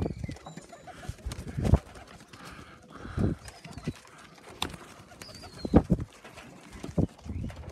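Pigeons in a loft make soft cooing and wing flutters, with scattered thumps and scrabbling from birds landing and moving about. The sounds come close and in intermittent bursts, with no clear talk.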